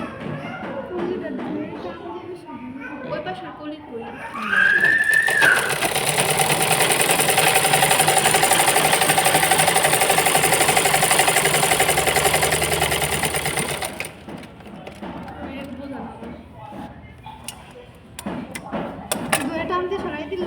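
Sewing machine stitching a palazzo runs steadily for about ten seconds, loud and close, with speech heard before and after the stitching.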